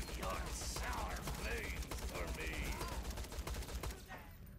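Gunshots in Borderlands 2, a rapid series of crisp shots fired in quick succession, fairly faint under layered game effects and chatter-like sounds.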